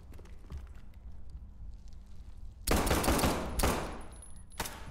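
Gunfire in the horror shooter game SCP 5K comes in two loud, dense bursts after a quieter stretch of ambient rumble, followed by a single short crack near the end.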